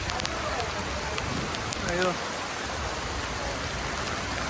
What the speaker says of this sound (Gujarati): અત્યારે રાતનો વરસાદ પડે છે